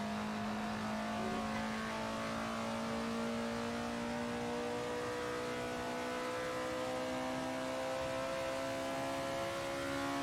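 Race car engine in the Assetto Corsa driving game, a sustained high revving drone with slowly shifting pitch, continuous and steady throughout, no talking.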